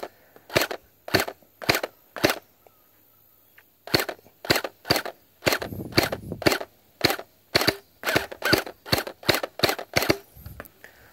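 A G36C gel blaster toy rifle fires single shots, a sharp snapping crack each time, spaced about half a second to a second apart in two bursts separated by a short pause, loud and close with nothing else heard.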